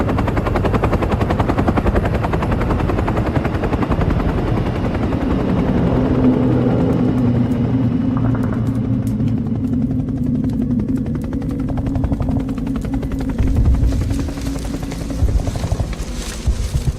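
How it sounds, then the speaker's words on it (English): Military helicopters landing on a hilltop in a war zone, a loud continuous rotor and engine roar filling the whole stretch with a low droning hum and no talk. "Choppers have landed since we took the hill."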